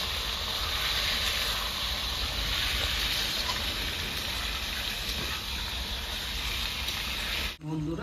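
Marinated gandhoraj-style chicken hits a hot pan in village-style cooking and sizzles with a steady, loud, even hiss that fills the whole stretch until a short cut near the end.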